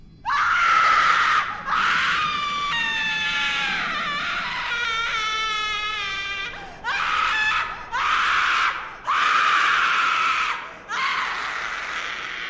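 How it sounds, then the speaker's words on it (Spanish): Several harrowing screams rise and break off one after another, loud and close, with wavering wails and strained cries between them in a Spanish-language radio drama, no speech heard. "escuchó un grito desgarrador, que le erizó todo el cuerpo"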